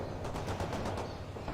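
Rapid automatic machine gun fire in the World in Conflict video game, a dense continuous burst of repeated shots at steady loudness with no talk over it.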